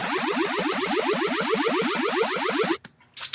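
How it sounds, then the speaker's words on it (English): Laser synth riser in an electronic dance build-up, a bright buzzing tone pulsing in fast repeated sweeps that climb steadily in pitch and quicken to double time, then cutting off abruptly into near silence with a short burst after. "basically a sort of laser synth that gets slowly pitched up, and then eventually switches to double time."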